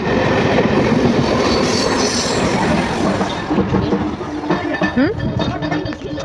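A crowded passenger train rolls along loudly, with continuous rumbling wheels and rattling carriages and a brief wheel squeal near the end, heard from inside the train under scattered voices.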